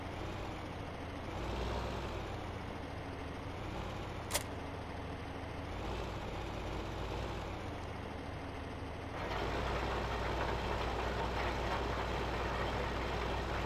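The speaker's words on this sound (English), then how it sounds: "Deutz Fahr is a really good tractor for the price." A Deutz Fahr tractor engine in a farming simulator game drones steadily at a low idle-like rumble, with one sharp click partway through and the engine noise swelling slightly louder near the end.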